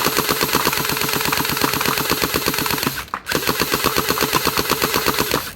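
An MKM2 gel blaster toy gun fires in rapid full-auto bursts, a fast mechanical clatter of evenly spaced shots, briefly interrupted before the stream resumes, close and loud.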